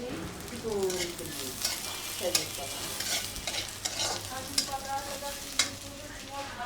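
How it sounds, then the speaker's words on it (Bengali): Fish frying in hot oil in a home kitchen, a steady sizzle under scraping stir noises and sharp utensil clinks, with faint background music or voices. "এই জন্য মাছগুলো ভেজে নিচ্ছি"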